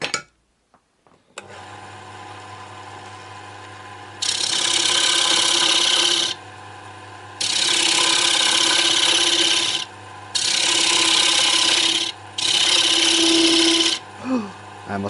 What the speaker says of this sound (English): this will all come out with the scraper now